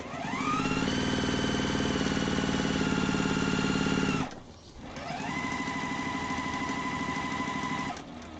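A sewing machine stitching quilt lines on a confetti star quilt, a steady rapid mechanical whir that runs, pauses briefly, then runs again at a slightly lower level, close by, with no talking.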